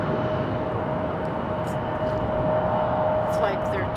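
An Airbus A220-200 touches down at Raleigh-Durham airport, a broad distant jet roar with a steady whine, constant in level throughout.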